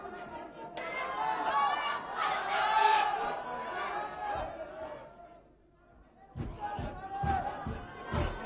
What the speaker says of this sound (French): il réclame des applaudissements, mais au contraire, et vous l'entendez, ce sont des sifflets